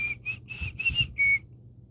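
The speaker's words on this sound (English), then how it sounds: "Whatever, the whistle." A person whistles the Old Spice jingle: five bright, clear notes in a quick rhythm, close and alone with no talk.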